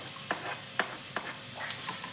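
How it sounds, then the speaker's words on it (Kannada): Cashews, garlic and tomato frying in a pan, a soft continuous sizzle with a few scraping stirs. "ಇದೆಲ್ಲ ಫ್ರೈ ಮಾಡ್ಕೋಬೇಕು,"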